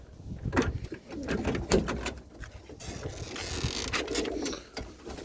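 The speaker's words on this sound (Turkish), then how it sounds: "Yeni kuşlar bunlar arkadaşlar." Pigeons coo repeatedly in a home coop, soft throaty calls close by, with rustling, wing flutters and light mechanical clicks around them.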